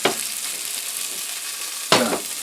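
Tuna medallions frying in toasted sesame oil in a pan, a steady close sizzle with a sudden louder hiss burst near the end as more fish goes in.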